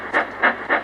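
A steam engine puffs three times in an even, close rhythm, each chuff a loud breathy burst of steam against a low background hum.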